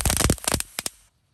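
A lotus firecracker (mercon teratai) bursts in a rapid string of loud, crackling pops lasting about a second, then falls abruptly silent.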